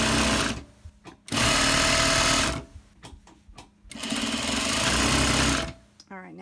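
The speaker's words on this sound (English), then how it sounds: "now it's time to go to the machine, and we're just going to take these two pieces" A sewing machine hems two pieces of fabric for a pillow slip cover, running in two long loud close bursts separated by pauses and brief clicks.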